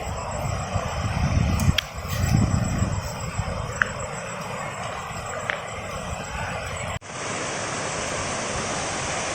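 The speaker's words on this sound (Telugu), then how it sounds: "వాటర్ ఫాల్ అయితే ఇక్కడనే ఉంది ఆల్రెడీ మీకు కనిపిస్తుంది అనుకుంటా" Tiryani waterfall gives a steady roaring rush of falling water, loud and continuous, with a faint tick or two and an abrupt shift in tone near the end.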